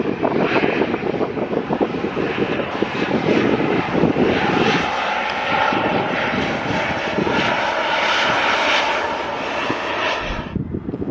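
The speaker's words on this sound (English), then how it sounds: "Here we go with the Norwegian 737-800 close up." Norwegian Boeing 737-800 jet passing close by at Stockholm Arlanda, a loud, steady engine roar with broadband rushing and some wind buffeting on the microphone throughout, no talking.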